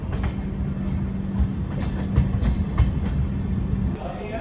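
The Kasganj-Aishbagh special train runs past on its inaugural journey toward Lucknow, a steady rumble of rolling wheels with faint rhythmic clacks and a sustained low hum, close and continuous.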